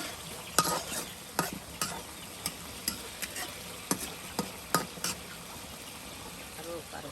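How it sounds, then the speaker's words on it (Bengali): Boiled eggs stir-fried with chopped onion in a pan, a steady sizzle broken by irregular scraping and clinking strokes of the spoon against the pan, close up with no voices. "ডিমগুলো দেখুন একদম ভালো করে কষিয়ে মজিয়ে নেওয়া হচ্ছে পেঁয়াজ কুচির সাথে।"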